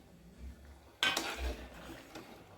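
Dry semolina (rava) scraped and stirred around a pan for rava semiya khichdi, with a sudden burst of scraping and clinking partway through and softer stirring after, close and fairly quiet.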